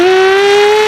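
A child imitates a vehicle engine with a loud, steady, high hum that rises slightly, sustained and close, alone without other sounds.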